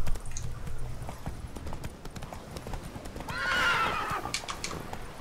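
Roach the horse in The Witcher 3 gallops with steady clip-clopping hooves and lets out a bright, rising neigh partway through, close and clear against muffled game ambience.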